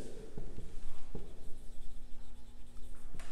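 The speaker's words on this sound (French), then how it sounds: "Donc, on va l'écrire." Pen or chalk writing out a maths answer, a close, scratchy run of short strokes and taps with brief pauses, no talk.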